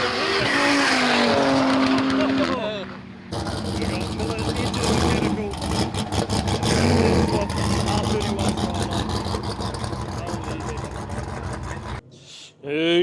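Stripped-out drag race cars, a BMW against a car called Lenny, roar and rev hard with tire squeal from a grandstand, loud and continuous, while people talk and shout nearby.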